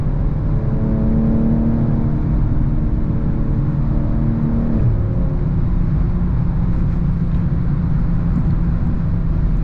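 A 2022 BMW M240i pulling hard at high speed on the Autobahn: a loud, steady engine drone with a rising tone that breaks off partway through, then settles into a sustained rumble over heavy road and wind noise.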